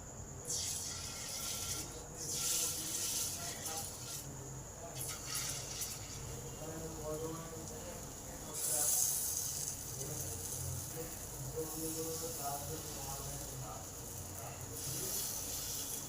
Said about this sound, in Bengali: এগুলো একটু সময় নিয়ে নিয়ে ভাজতে হবে।